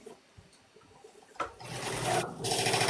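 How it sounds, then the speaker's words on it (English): A sewing machine stitches a webbing key fob, starting after a few soft clicks and settling into a loud, close, steady whirring run with a brief pause. "That means I gotta turn on my sewing machine."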